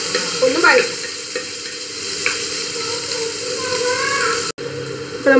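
Finely chopped green and dried chillies sauté with onion in a pan for a Kerala-style chicken thoran, a loud steady sizzle broken by scraping stirs of a spatula, with one brief cut near the end.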